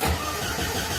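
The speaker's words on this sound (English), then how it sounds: "I will switch on the car now." An Alfa Romeo car engine turns over and catches during a coolant replacement, a short loud burst of cranking settling into a steady running note.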